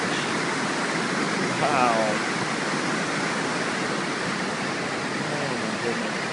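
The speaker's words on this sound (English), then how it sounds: "I'm at the far end of the lake where the water rushes in." Water from Clearwater Creek rushes into the far end of a lake, making a loud, steady broadband roar that continues throughout, with a brief spoken exclamation over it.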